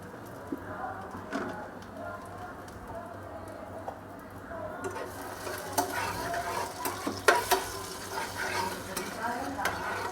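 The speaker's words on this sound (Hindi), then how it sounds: "इसी के साथ साथ इसमें हम डालेंगे 1 मीडियम साइज़ के टमाटर, जिसे मैंने इस तरीके से बारीक काट लिया है।" Finely chopped medium-size tomato hits hot oil, and the steady frying sizzle jumps to a louder, crackling hiss mixed with stirring scrapes and clatter, while a voice talks over it.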